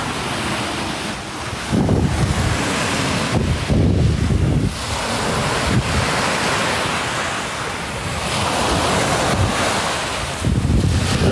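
Sea waves washing onto the sand at Chao Lao Beach, a steady surging roar with repeated swells, mixed with strong wind buffeting the microphone.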